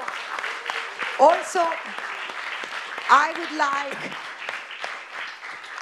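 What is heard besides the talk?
audience applause at a conference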